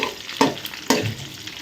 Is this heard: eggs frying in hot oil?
yes